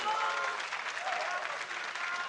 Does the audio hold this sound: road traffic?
no